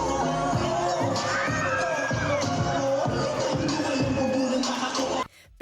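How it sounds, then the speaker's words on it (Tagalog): A crowd of fans at a mall show screams and cheers loudly and without letup, with high shrieks and babble layered over music and ending in a sudden cutoff. "Tumodo naman ang hiyawan ng fans"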